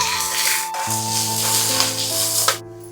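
Dried chilies and curry leaves hit hot oil in a home kitchen pan, giving a loud, continuous crackling sizzle throughout that cuts off abruptly near the end.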